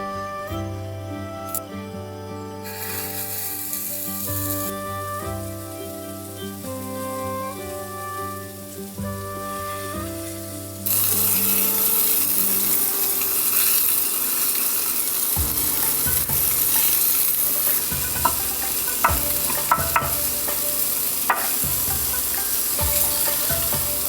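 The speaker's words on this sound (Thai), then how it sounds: "ระหว่างที่เรากำลังย่างเนื้อนะครับ" Hamburger steak grilling in a pan on an electric stove, with a steady close sizzle and occasional clinks and scrapes; no one speaks.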